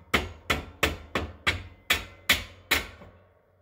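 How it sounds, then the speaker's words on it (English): A small furniture hammer taps a pin into a detent on a woodstove, eight sharp, evenly spaced metallic knocks close by, with no voices. "I have my little trusty furniture hammer. Just trying to get it in this detent."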